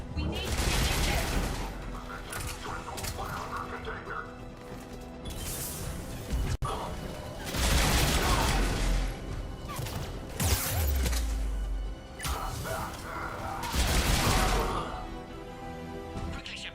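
Heavy gunfire rattles through a firefight in Mass Effect 3, with dense, loud volleys in waves that barely pause, and voices shouting beneath the shooting.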